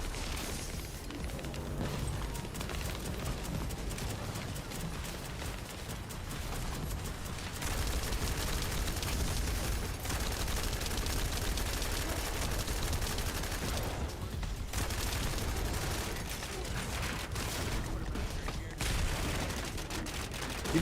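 Dense, sustained gunfire from The First Descendant shooter, continuous rapid shots and bursts for about twenty seconds, loud and unbroken.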